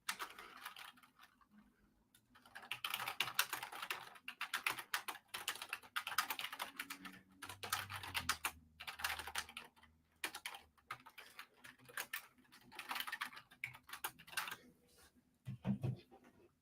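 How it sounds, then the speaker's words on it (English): Steady rapid typing on a computer keyboard during an online board of trustees meeting, with clattering key bursts in uneven runs and short pauses, fairly close and moderately loud, with no speech. "I'm still in the middle of typing up my thoughts to send in"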